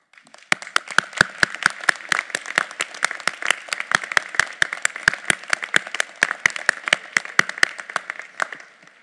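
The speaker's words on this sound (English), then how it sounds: "please stand and receive our applause" Steady applause from a small crowd at a college commencement, with crisp individual claps in a quick, even rhythm that carries on for several seconds.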